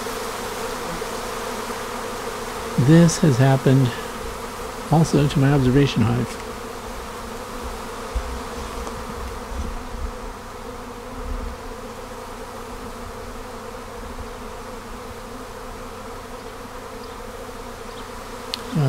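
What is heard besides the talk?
honey bee swarm pouring back into hive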